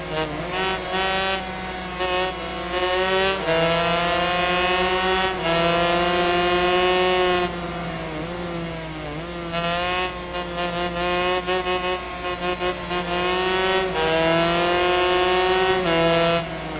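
A 125cc two-stroke racing motorcycle in the video game Ride 3 screams at high revs, its engine note climbing and dropping through several gear changes, loud and continuous without speech.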